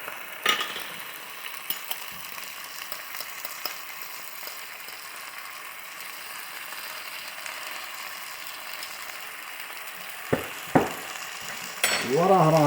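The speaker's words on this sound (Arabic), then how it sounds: "هسه نظل نقلب بيهن على ما يتحمس زين." Curry-spiced potatoes fry in a pot with a low, steady sizzle, and a spoon stirs them with occasional scrapes and clinks that grow louder near the end.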